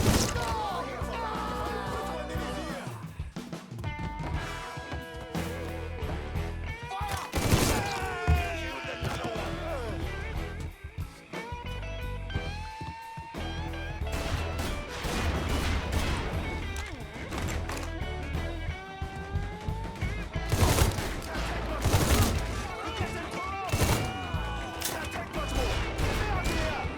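Gunfire in the open-world crime game Mafia 3: repeated sharp shots and crashing impacts in a chaotic firefight over a continuous bed of game sound, with shouting voices in between.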